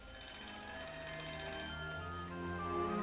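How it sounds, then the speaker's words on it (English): An old-fashioned telephone bell rings in a home during the First World War. The jangling ring is bright and continuous, carries on for a few seconds at moderate volume, and sounds with no speech. "2 days later, the phone rang."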